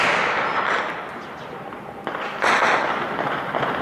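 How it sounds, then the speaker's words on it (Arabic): Shelling strikes on a neighborhood along the old Aleppo road in Hama, Syria, heavy booms and crackling blasts rolling through the air, loud and reverberant, with a couple of sharper impacts in the second half. "قصف عشوائي على الحي"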